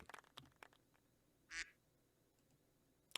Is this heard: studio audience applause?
no